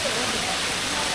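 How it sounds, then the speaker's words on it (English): A jungle waterfall roaring in a steady, dense wash of falling water, loud and close, with no break. "That's a nice waterfall."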